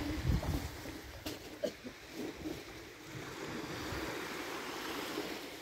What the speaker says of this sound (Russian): Шум прибоя такой тихий.